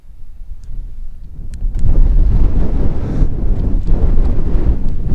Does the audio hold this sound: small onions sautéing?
no